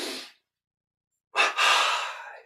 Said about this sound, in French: double inspire.